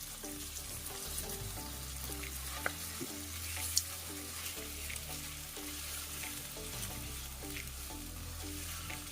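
Marinated chicken pieces frying with onion in oil in a kadai, a steady close sizzle with stirring scrapes and a couple of sharp clinks throughout.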